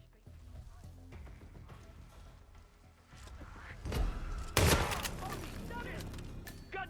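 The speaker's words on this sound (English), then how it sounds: "Gunshots!" Gunfire in the stealth game Hitman 3, a burst of loud booming shots over a busy game soundscape, with someone talking through it.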